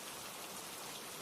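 Rain falls in a dense, even hiss of countless drops on surfaces, soft and steady with no other sounds.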